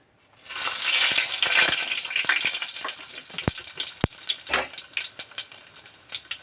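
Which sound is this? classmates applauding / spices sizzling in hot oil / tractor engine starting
spices sizzling in hot oil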